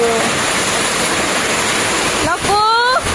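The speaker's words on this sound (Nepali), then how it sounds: "पानी परेकै हो ल पानी परेकै हो है साथीहरू पानी परेकै हो" Heavy rain pours down in a village, a loud, dense, unbroken hiss filling the scene, with a voice speaking over it near the end.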